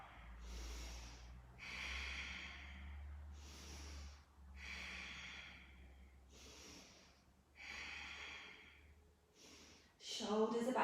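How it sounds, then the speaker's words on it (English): Deep breathing during a breathing exercise: slow, regular inhales and exhales, close and fairly soft, about five cycles with short pauses between them. A brief louder sound comes near the end. "Deep breathing wherever you are."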